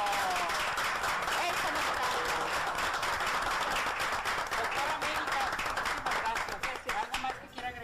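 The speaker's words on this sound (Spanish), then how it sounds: "Gracias por estos aplausos, este reconocimiento" Sustained clapping from a crowd fills the whole stretch, steady and dense, with voices mixed in beneath the applause.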